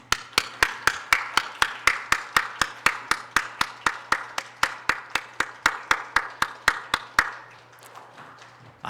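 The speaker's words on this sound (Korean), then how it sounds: "열심히 박수로 환영하겠습니다." Church congregation clapping together at a Sunday evening worship service, a steady rhythmic beat of sharp hand claps for about seven seconds before trailing off, with a low steady hum underneath and no talking.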